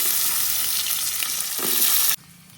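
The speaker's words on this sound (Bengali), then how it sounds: "এই আলুগুলো একটু ভাজে নিলাম" Cut potatoes fry in a pan in a village kitchen with a loud, dense sizzle and some stirring, close and continuous until the sound drops away abruptly near the end, with no speech.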